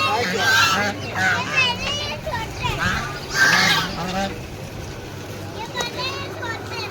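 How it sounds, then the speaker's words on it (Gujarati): Ducks at Dudhani Lake in Silvassa give repeated honking quacks, loud and fairly close, mixed with children playing and people talking nearby. "અહીંયા સરસ સરસ મજાની બતકો પણ છે"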